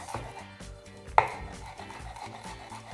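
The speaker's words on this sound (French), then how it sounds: "Je vais vraiment les couper très finement." A knife chops parsley and dill very finely on a cutting board, making quick, close, rhythmic taps with one louder knock, and no talking.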